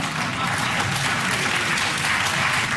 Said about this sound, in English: That's a really pathetic round of applause.